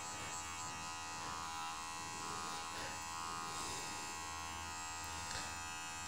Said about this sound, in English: And then I'll just turn the blade on and let the oil work its magic.